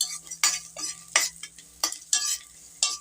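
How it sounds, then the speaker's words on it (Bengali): Broken lentil dumplings (bori) fry with onions in oil in a wok, a soft sizzle punctuated by about seven rhythmic, clinking spatula stirs in quick succession. "পেঁয়াজের সঙ্গে ভেজে নিচ্ছি"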